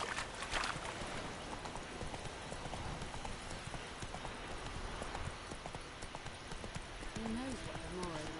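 Horse hooves clip-clopping in a steady trotting rhythm from Roach, the horse in a Witcher video game, continuous and close under a quiet game soundscape with someone speaking.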